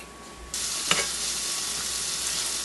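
Onions and vegetables frying in olive oil, a loud close sizzle that jumps up suddenly and then holds as a steady hiss, with one brief clatter of a utensil.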